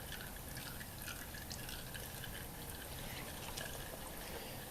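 Engine oil drains steadily from a John Deere 330 compact tractor's Yanmar diesel into a pan, a soft continuous trickle and pour heard alone at low level.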